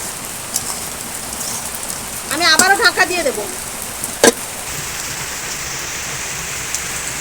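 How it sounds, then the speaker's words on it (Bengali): Heavy rain pours steadily outside, a dense, even hiss that continues throughout, while a person speaks briefly over it and a sharp knock sounds once. "প্রতিদিন কি বৃষ্টি হচ্ছে রে আজকে"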